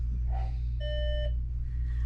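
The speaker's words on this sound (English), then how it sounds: "It's gonna beep again." A single electronic beep from an X-ray machine, a steady tone lasting about half a second, over a low background hum.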